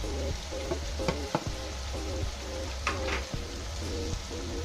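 Chili peppers dropped into hot oil for Bicol Express crackle and sizzle close up, with a few louder pops and spatters over a steady frying hiss.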